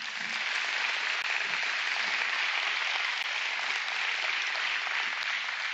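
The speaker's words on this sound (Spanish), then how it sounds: "Denle un aplauso al Señor, ¿sí?" A church congregation applauding at the start of a Sunday service, dense steady clapping that holds at an even, fairly loud level throughout.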